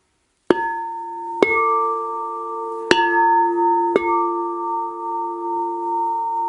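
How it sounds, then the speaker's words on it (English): Crystal singing bowls struck four times in turn for sound therapy, each strike ringing out into long, pure, overlapping sustained tones, clear and close in an otherwise quiet space. "It is called crystal sonic therapy."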